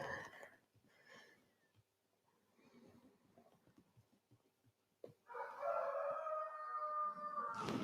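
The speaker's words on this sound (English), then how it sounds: "It's Goldilocks, my rooster." A rooster crows loudly and close by near the end, a long drawn-out call after several seconds of quiet rustling and faint background noise.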